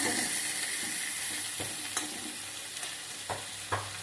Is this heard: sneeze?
no